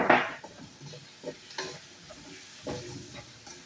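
Onions frying in a pan are stirred, giving a few loud scraping bursts over a low, steady sizzle, close by with no talking.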